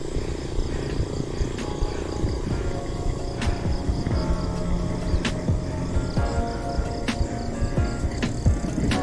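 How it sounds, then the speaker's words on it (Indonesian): A morning outdoor chorus of crickets chirps with shrill, pulsing trills over a dense bed of natural ambience. Brief sharp clicks punctuate it at intervals, and no one speaks. "Suara jangkrik,"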